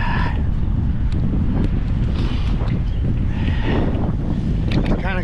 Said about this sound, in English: Another very windy day, making it very difficult to get anywhere.